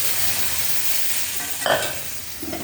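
Boiled masoor dal, just added to a spiced pan, cooks with a soft continuous sizzling bubble, broken by a brief stirring scrape partway through.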